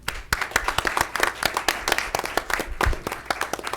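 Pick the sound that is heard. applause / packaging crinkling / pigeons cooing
applause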